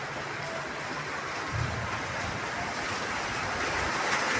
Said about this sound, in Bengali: এই দেখো বৃষ্টি শুরু হয়ে গেছে